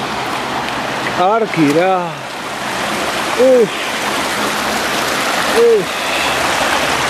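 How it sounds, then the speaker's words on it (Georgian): A small river flowing through a littered streambed with little waterfalls, a loud, steady broadband rush, with a voice breaking in briefly a few times. "აი პატარა და საყვარელი მდინარე"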